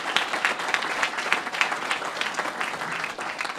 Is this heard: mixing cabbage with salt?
no